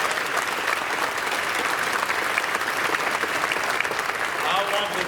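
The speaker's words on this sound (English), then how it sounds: "Let's give them a round of applause." A crowd applauds steadily and loudly throughout at a groundbreaking ceremony for a veterinary school campus in Amarillo, a dense, even wash of clapping with no pauses.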